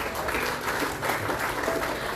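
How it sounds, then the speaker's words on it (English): An audience at a grand launch ceremony of the Global Goan Association claps steadily, a dense, sustained burst of applause filling the room with no voices over it. "Please put your hands together as loud as possible"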